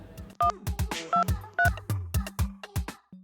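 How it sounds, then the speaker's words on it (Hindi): A rapid sequence of short electronic tones and clicks as a phone number is dialed, close and fairly quiet, with no speech. "अब जीतू ही कुछ कर सकती है, उसी को फोन लगाती हूँ।"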